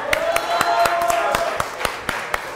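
A few people in a show audience clap for a contestant, giving sparse, sharp, separate hand claps at an uneven rhythm while voices carry on underneath.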